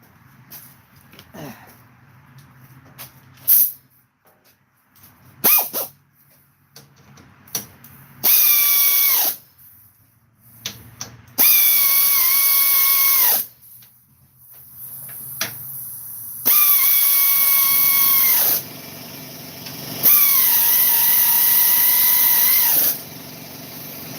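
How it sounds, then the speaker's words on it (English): Air ratchet driving a fastener beside an open gas tank during tractor repair, shop made in Cleveland, Ohio: several loud, sustained whirring bursts of about two seconds each, separated by short pauses and faint clicks. "This is an air ratchet, so it's okay to use near this open gas tank because there's no sparks or anything."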